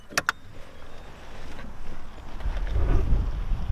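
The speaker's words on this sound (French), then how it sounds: "J'avais oublié le vent." Wind buffets an outdoor microphone near a road, a low rumbling roar that swells and grows stronger toward the end, preceded by a couple of sharp clicks.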